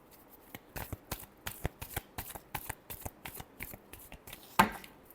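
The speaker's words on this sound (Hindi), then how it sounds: "Last shuffle." Tarot cards being shuffled by hand up close, a quiet series of quick, rhythmic riffling slaps, roughly a dozen soft bursts ending with a slightly louder snap.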